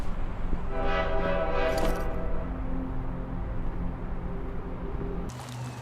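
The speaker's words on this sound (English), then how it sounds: "If you go behind the forklift truck, you will find the toy train, and this will give you the train achievement." Toy train in the video game Shadowside, giving off a loud, horn-like harmonic tone over a steady rumbling background, peaking early and then settling into a continuous drone before cutting off near the end.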